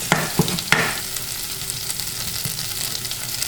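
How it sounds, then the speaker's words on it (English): Tomato paste frying in a pan gives a steady close sizzle with a few sharp scraping stirs near the start, continuing evenly without talk. "So all I'm doing again is just frying my tomato paste."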